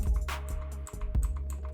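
Computer keyboard keys pressed in a few crisp, close clicks, including a page up key and the spacebar, with soft clatter between them in a quiet room.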